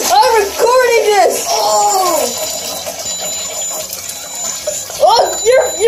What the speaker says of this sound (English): Now flush it.